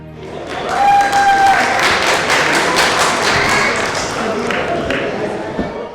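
Audience applause at a Pakistani 14 August Independence Day celebration abroad, a crowd clapping steadily for several seconds with a few sharp taps, a tone ringing briefly at the start and voices under the claps.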